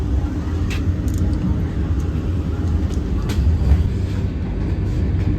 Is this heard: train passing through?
yes